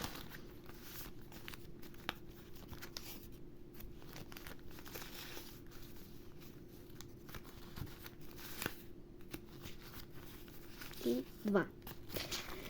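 Plastic sticker packets crinkle as they are torn open and unpacked, soft and intermittent at close range, with a short louder burst of rustling near the end and a quiet voice in the background.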